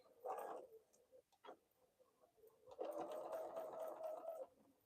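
A home sewing machine set to long stitches runs in two short bursts, a brief whir near the start and a longer steady stitching run later, close and moderately loud in a quiet room.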